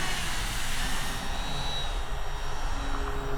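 An E-flite Turbo Timber RC plane, repaired with glue, sticks and carbon fiber and fitted with a new motor and ESC, flies with a steady electric motor whine and a propeller buzz, close and constant throughout.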